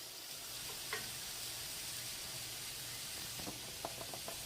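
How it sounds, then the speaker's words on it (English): Tomatoes for a chile rellenos casserole cooking in a pan, a faint, steady sizzling hiss with a few light clicks of a utensil near the end, quiet and without speech. "Now I'm going to add my tomatoes."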